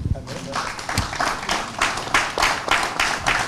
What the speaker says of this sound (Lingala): Est-ce que nous pouvons applaudir?